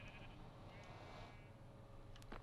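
A Minecraft sheep bleats faintly in the video game, sitting low beneath a steady wash of background game noise.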